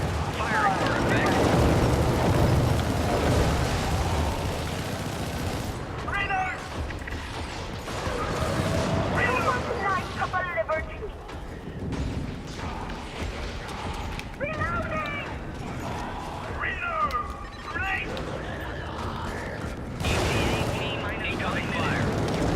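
Repeated artillery strike explosions in Helldivers rumble through a dense game battlefield, loud low booms recurring over about twenty seconds amid gunfire, mechanical clatter and voices talking throughout.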